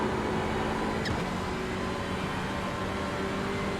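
A Lotus 49 race car running on the Nordschleife, a steady loud engine drone with constant road and wind noise and no clear rise or fall in pitch.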